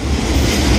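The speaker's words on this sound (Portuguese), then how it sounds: "então nós temos o trem passando na Ponte dos Arcos" A train crosses the Ponte dos Arcos bridge, its loud, steady rumble of wheels and cars continuous throughout with no gaps, heard close at hand.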